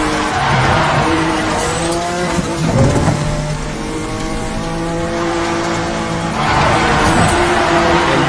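A car drifting on a narrow mountain pass road near Glenwood Springs in a racing video game, engine droning as tires squeal in long sustained slides, easing off midway and then surging again toward the end.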